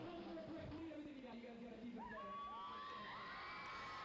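A concert crowd screams and cheers, piercing high shrieks and whoops swelling over a low murmur, with talk underneath.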